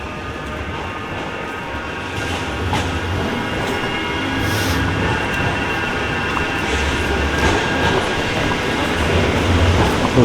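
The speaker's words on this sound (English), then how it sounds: "That's another tram, they're just everywhere." A tram passes through Manchester city centre with a steady, fairly loud rail rumble and rolling hiss that stays close throughout, over general street ambience.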